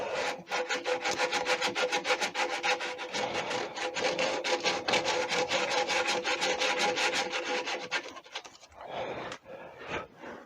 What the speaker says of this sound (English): Now that you've got the slot, it's just a case of sanding.